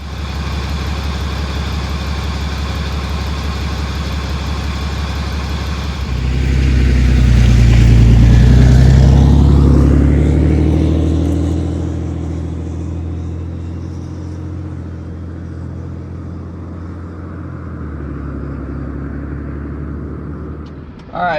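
A truck engine idles steadily, then revs into a deep, loud rumble as a test drive begins after the system was bled, settling back into a lower, droning run.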